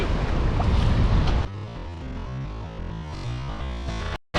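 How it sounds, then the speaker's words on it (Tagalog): Wind blows across the sea during a carp-fishing outing, a loud, rushing buffet on the microphone with surf beneath it. The gusts ease after the first moments into a steadier rumble, then cut out briefly near the end. "ayun may hangin Hangin."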